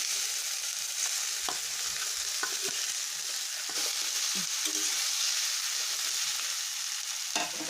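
Samosa masala sizzling and frying in a pan, a continuous hiss with occasional stirring scrapes and clinks, close and steady with no talking.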